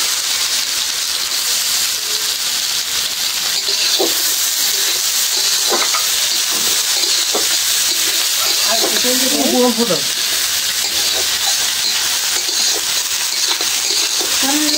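Onion and garlic frying in a generous amount of oil for a spicy chicken curry, a loud, constant hissing sizzle close by, with stirring scrapes and a brief voice partway through.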